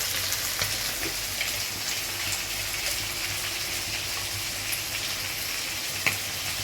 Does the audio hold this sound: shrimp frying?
yes